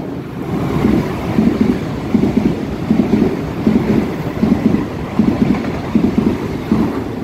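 A 4046 express train bound for Hualien on the North-link line rolls through Waiao station at night, its wheels clacking in a steady rhythmic pattern over rail joints amid a broad rumble, close and loud.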